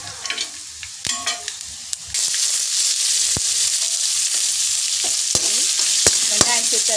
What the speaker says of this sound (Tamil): வெங்காயம் சேர்த்தாச்சு, இது நல்லா வதங்கட்டும்.